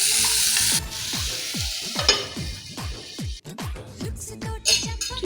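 Onions and tomatoes cooking in a pan for paneer curry, with a loud sizzle at first followed by a steady run of short scraping stirs and clinks against the pan.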